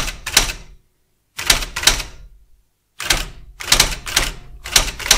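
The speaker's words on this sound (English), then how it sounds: "the right key sequence and the typewriter reprints it automatically" An IBM WheelWriter 6 electronic typewriter reprinting text on its own, loud close bursts of rapid daisywheel strikes separated by short silent pauses, no voices.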